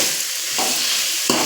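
Bitter gourd sautéing in oil in a pan, a steady broadband sizzle close up with two sharp stirring scrapes, one mid-clip and one near the end.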